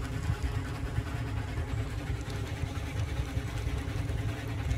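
A locomotive engine runs steadily in the railroad game Railroads Online, a continuous low, rumbling drone that stays even and fairly loud for the whole stretch with no talk over it.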